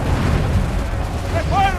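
Ship cannon fire in Assassin's Creed III, a deep rumbling boom rolling under a shouted voice, heavy and close through the short span.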